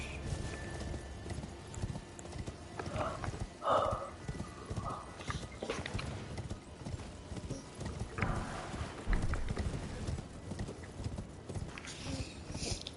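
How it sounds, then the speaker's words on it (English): Galloping horse hooves of a mounted rider giving chase in the Elden Ring video game, a steady clip-clop rhythm running throughout amid game ambience, with occasional louder thuds and a brief whinny. "There is somebody on the horse chasing him"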